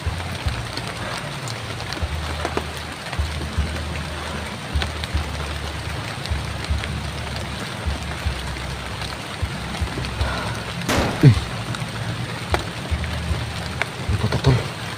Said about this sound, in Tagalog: Lakas ang ulan tol.